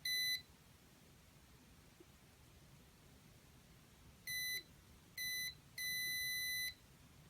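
Ultrasonic sensor alarm buzzer gives sharp electronic beeps in a quiet room: one short beep, a pause, two more short beeps, then a longer sustained tone.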